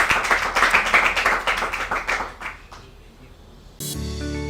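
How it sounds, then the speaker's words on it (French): Brisk audience clapping in a rhythmic patter at a televised dance and talent show in Gombe, fading out after a couple of seconds before music cuts in. "applaudissez quand même"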